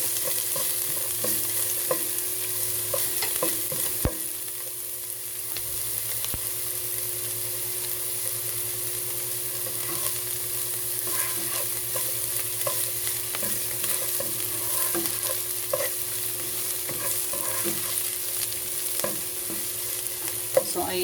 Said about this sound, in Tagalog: haluin lamang natin at hintayin na lumambot ang sibuyas